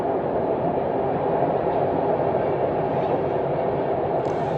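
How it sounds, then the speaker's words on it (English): A train passing in Europe, a loud continuous rumble and rolling roar close by that holds steady throughout, with a faint higher tone creeping in near the end. "Here in Europe, it's not F-16s, it's just the trains."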